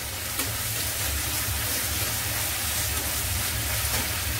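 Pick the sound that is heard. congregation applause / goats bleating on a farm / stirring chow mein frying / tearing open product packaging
stirring chow mein frying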